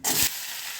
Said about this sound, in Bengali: আর ফোড়নে দিয়ে দিচ্ছি অল্প একটু সাদা সর্ষে দিচ্ছি দুটো কারি পাতা